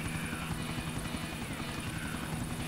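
A helicopter flying in the video game GTA IV gives a steady, close rotor chop with a dense whirring drone throughout, fairly quiet and alone.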